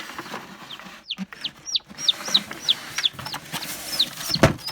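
A newly hatched baby chick peeping, a series of high, short chirps repeated every fraction of a second, close and clear over a quiet background, with a brief thump near the end.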